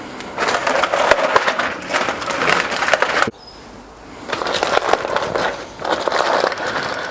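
Foil crinkling and rustling as a smoked pulled pork joint, rested for about two hours after a hot and fast cook on a Kamado Joe, is unwrapped, with close, steady crackling bursts and a brief quieter pause midway.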